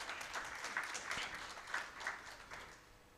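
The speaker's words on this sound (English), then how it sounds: "Let's give him a big round of applause." Audience applause at a tech-enabled financial inclusion panel in 2024, a moderate, steady patter of many hands in a room, fairly distant and thinning toward the end.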